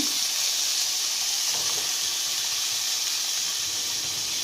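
Diced ham sizzling steadily in a hot pan just after being added, a constant bright hiss with faint crackles, fairly close and with no voices.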